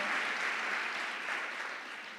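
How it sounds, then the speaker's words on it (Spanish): A church congregation applauds during a Spanish-language service, a dense continuous burst of clapping that holds steady and tapers slightly. "Le damos un aplauso al Señor."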